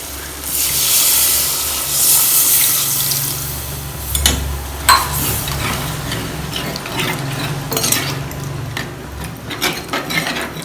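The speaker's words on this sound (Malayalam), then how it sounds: "നമുക്കിനി വെള്ളം ഒഴിക്കാം" Water pours steadily into a pan of sardine curry with a broad rushing hiss, followed by a few clinks and sloshes as the pour tapers off.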